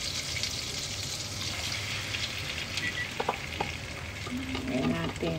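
Marinade hisses and sizzles steadily in a hot pan, a bright continuous frying crackle close by, with a few clinks and stirring scrapes near the end.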